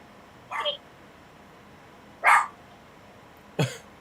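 Three short, separate dog barks sound at moderate distance with pauses between them, standing out against a quiet background.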